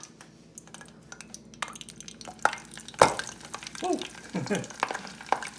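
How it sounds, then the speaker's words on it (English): Rice paper spring rolls sizzle and crackle in hot grease in a pan, the frying growing busier with spitting pops, close up, with a brief exclamation from a voice. "all you do is put it in some hot grease and let it fry"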